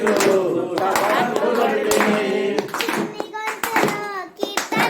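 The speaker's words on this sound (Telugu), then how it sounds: "చిన్ని చేతులు చప్పట్లు కొడితేనే" Small children's hands clapping in quick repeated claps mixed with singing voices during an Ayyappa Swamy padi pooja devotional song at home.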